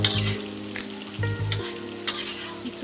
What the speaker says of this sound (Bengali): এই পানিটা পুরোটা টানিয়ে ফেলতে হবে আর এই কচুটা অনেক সুন্দর করে গলিয়ে নিতে হবে